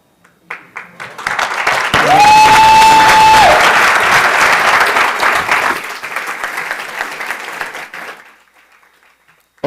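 An audience breaks into loud applause after a pitch at a youth pitch competition, swelling quickly, holding strong, then tapering off with a brief whistle-like tone early on.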